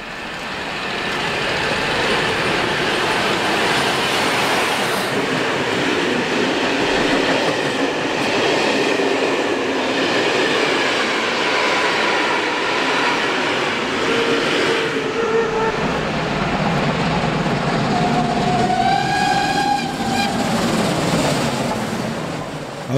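Steam locomotives 35 1097, CFL 5519 and 52 8079 run side by side through the Elbe valley toward Pirna, a steady loud rumble and clatter of wheels and exhaust, with whistle tones sounding near the end.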